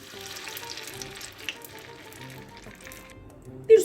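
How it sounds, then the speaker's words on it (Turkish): Canned tomato sauce poured into a hot frying pan, a soft close sizzle and bubbling hiss that holds steady for a few seconds, ending with a brief louder clink at the end. "Hemen şöyle tavama alıyorum sosumu."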